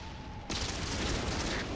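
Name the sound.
tank gunfire in video game World of Tanks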